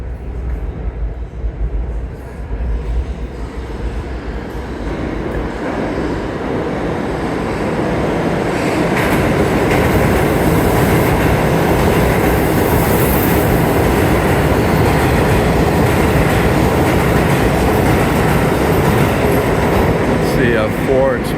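Subway express train roaring through the 33rd Street IRT station in New York City, a steady loud rumble with clattering wheels that builds after the first few seconds and holds to the end, with faint voices underneath.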